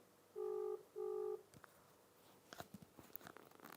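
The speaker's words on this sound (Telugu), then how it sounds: "రింగ్ అవుతుంది, ఎత్తుతాడో లేదో తెలియదు." Two steady electronic phone rings sound, close and clear, then stop, followed by light clicks and handling noises.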